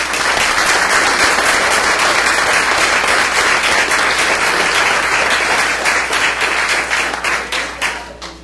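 Loud, sustained applause from a large crowd at a school board meeting, dense steady clapping that fills the room and begins to thin out toward the end.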